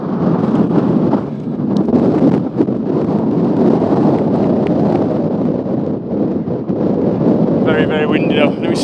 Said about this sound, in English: And I do apologise for the wind